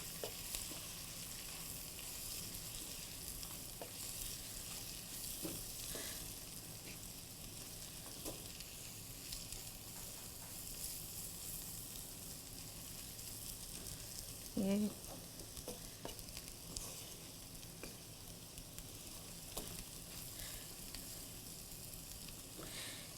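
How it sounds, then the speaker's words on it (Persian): Dill sautéed with salt and pepper in a pan for Iranian Baghali Ghatogh gives a steady close sizzle throughout, with occasional scraping and stirring clicks and no talking. "شویدش رو میریزم، نمک میریزم و فلفل. یه کمی تفت میدم."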